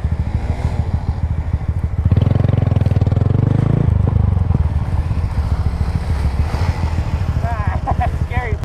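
A Honda Grom small motorcycle idles with a steady throb, then revs hard for a couple of seconds as the throttle is dumped for a wheelie, dropping back to a rough idle, close and loud.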